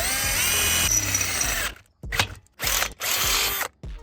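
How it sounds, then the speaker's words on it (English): A power drill bores a hole through a motorcycle hitch carrier, a steady loud whine for about two seconds, then three shorter bursts of drilling separated by brief pauses. "and then we'll drill a hole."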